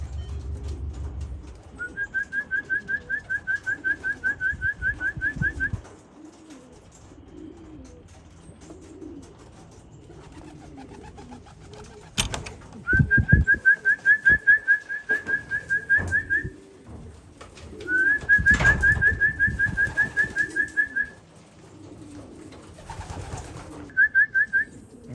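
Racing pigeons coo in repeated rolling bursts over steady outdoor background noise, with a couple of brief bangs in between.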